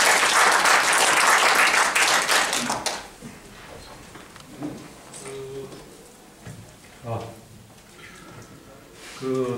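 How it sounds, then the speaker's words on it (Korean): Audience applause for a university professor presenting at a citizens' forum on a new airport, a loud burst of clapping for about three seconds that then drops off, followed by quiet room noise and brief talking. "박수 부탁드리겠습니다"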